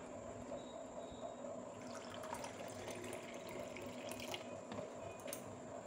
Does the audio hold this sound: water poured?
yes